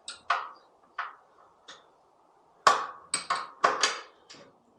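Acorn nuts and washers come off the wheel axle of a Ride1Up Rift e-bike, with scattered sharp metallic clinks and taps, close and isolated, in irregular bursts separated by quiet gaps.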